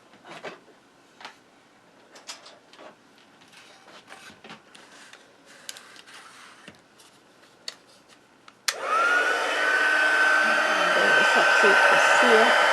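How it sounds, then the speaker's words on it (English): A heat tool switches on abruptly partway through, blowing a loud, steady rush of hot air with a faint whine over a handmade card, after scattered soft handling clicks and rustles in a quiet room. "let's bring in the heat tool."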